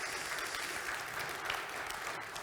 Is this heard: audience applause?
yes